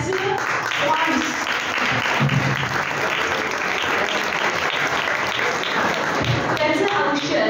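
Sustained audience applause at a science club event marking Albert Einstein's birthday, steady dense clapping from a crowd filling the whole stretch at even loudness.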